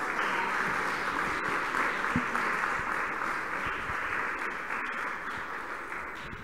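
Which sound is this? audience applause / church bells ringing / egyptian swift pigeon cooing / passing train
audience applause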